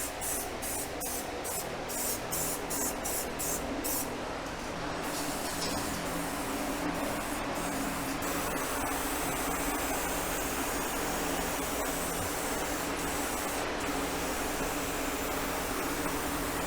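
A gloss black Rust-Oleum spray can hisses in a series of short rapid bursts, then settles into a longer continuous spray, close and fairly quiet.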